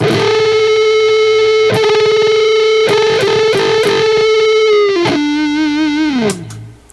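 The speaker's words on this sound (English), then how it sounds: "as the two notes start reacting one to the other, you're gonna get this modulation" Sustained distorted electric guitar notes with a warbling, wavering modulation, loud and close, with a few picked attacks before a final downward bend fades out.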